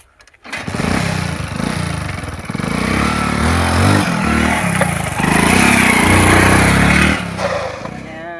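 A motorcycle with a faulty engine sputters into life and keeps running at a steady, rough idle close by, with a brief rise in revs along the way.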